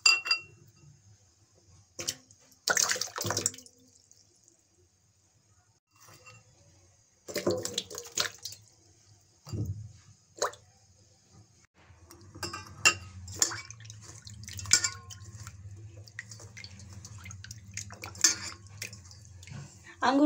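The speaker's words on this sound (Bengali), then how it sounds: "আঙ্গুরগুলো আমি ভালোভাবে ধুয়ে নিচ্ছি।" Grapes are washed under running water in a home kitchen, with intermittent splashing and clinking bursts, then a steadier low water flow, fairly quiet and close.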